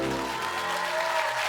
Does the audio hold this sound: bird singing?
no